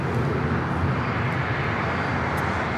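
Steady broadband roar of a jet airliner at LAX, a continuous engine rumble filling the whole clip with no pauses, loud and sustained as the plane takes off or taxis nearby.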